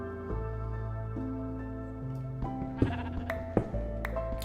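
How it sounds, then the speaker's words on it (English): Sheep bleat repeatedly inside a hardcore survival video game, sustained harmonic cries overlapping near the player with short sharper bleats toward the end, no talking. "this is apparently a sheep death pit"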